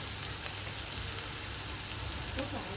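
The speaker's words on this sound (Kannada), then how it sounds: "ಇದು ಫುಲ್ ಫ್ರೈ ಆಗಲಿ ಉಳ್ಳಾಗಡ್ಡಿ ಫ್ರೈ ಆದಮೇಲೆ" Chopped onion frying in very hot oil for a bottle gourd palya, a dense, even crackling hiss that runs unbroken and close throughout, with no voices over it.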